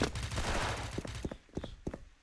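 Gunfire in the online shooter Special Force: rapid bursts of shots in a dense volley, then a few sharper separate cracks, fairly faint overall.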